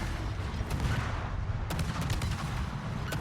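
Secondary guns on an enemy warship in World of Warships fire in a rapid, rumbling barrage of overlapping booms and sharp cracks, dense and continuous throughout.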